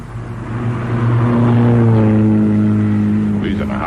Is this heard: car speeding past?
yes